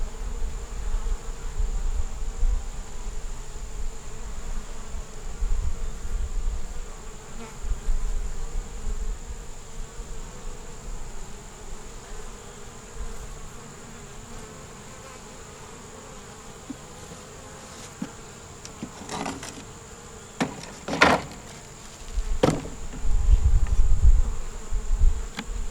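Honeybees hum steadily around an opened nucleus hive holding a newly hatched queen. The close, continuous drone carries a few louder buzzes of individual bees passing near toward the end, with no talking.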